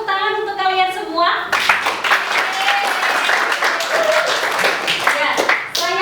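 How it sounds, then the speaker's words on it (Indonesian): University students in a lecture room applaud together, dense clapping that fills the room, with a voice talking over the start and scattered cheers. "Oke, tepuk tangan untuk kalian semua."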